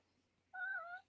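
A cat gives a single short, clear meow close by, rising out of near silence for about half a second.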